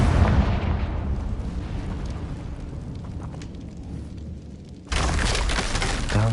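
A Confringo fire-blasting spell explodes in the Hogwarts Legacy video game, a loud broadband blast that rumbles and decays for several seconds before a second burst of noise hits near the end, with no talk.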